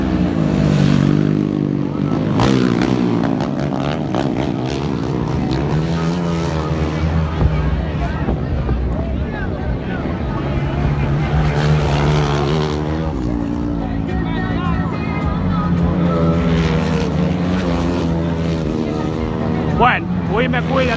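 Racing motorcycles, including a Martin R1, roar continuously nearby at a street race, their engine pitch rising and falling as they pass, with excited shouting voices over the noise throughout.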